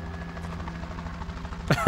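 A helicopter hovers in the distance in the video game A Quiet Place: The Road Ahead, a steady low rotor drone that swells near the end with a couple of heavier thumps.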